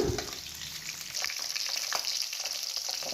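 Small shallots and garlic cloves sautéing in a pan for Chettinad vathal kuzhambu, a bright, continuous sizzle with quick scraping stirs, close and alone.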